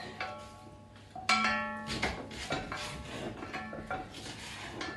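A knife chops leek on a wooden board in a home kitchen, with scattered knocks and scrapes mixed with clinking dishes and utensils, close and moderately loud.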